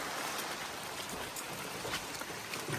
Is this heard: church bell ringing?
no